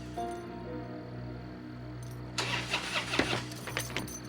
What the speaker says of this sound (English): That night, he couldn't start his car.